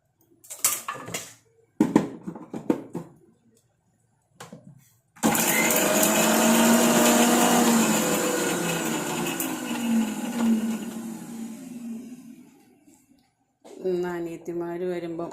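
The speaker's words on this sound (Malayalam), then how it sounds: "ഇതിനകത്തേക്ക് ഇഞ്ചി ഇട്ടിട്ട് ഇങ്ങനെ കറക്കി എടുത്ത്" A mixer grinder whirs steadily as it grinds ginger for a fish curry, loud at first and slowly fading over several seconds. Short bursts of talk come before it and a clanking kitchen sound follows.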